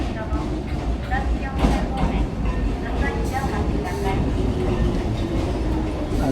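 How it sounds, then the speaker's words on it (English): A small Kurobe Gorge train rolls along its rails, a steady close rumble with faint clattering, while people talk over it. "So here's a train coming."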